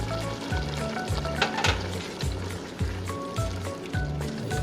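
Sardines go into sautéing pechay in a pan. A loud, steady frying sizzle runs close up, with stirring scrapes and a low rhythmic hum beneath, and no talk.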